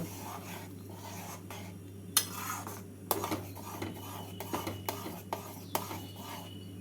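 Dal is stirred in a cooking pot with ginger and fennel paste, giving soft scraping and a few sharper clinks of a spoon against metal over a low steady hum.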